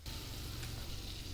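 Pointed gourd frying in a pan gives a steady, close sizzle with a dense crackle that holds evenly throughout, alone with no talking.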